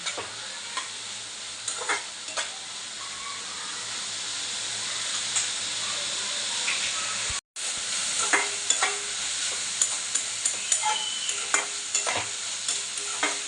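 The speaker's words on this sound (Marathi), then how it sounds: "व्यवस्थित मिक्स करून घेऊया म्हणजे मसाला सगळे व्यवस्थित लागेल" Onion, tomato and masala sizzle steadily in a pan for a dried Bombay duck chutney, with repeated clinking scrapes of a stirring spoon and a brief dropout midway.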